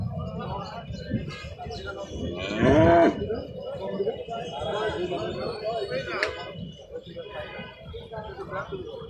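Cattle at the crowded Alamdanga cow market give one loud, drawn-out moo that stands out over a constant hubbub of voices and people talking nearby.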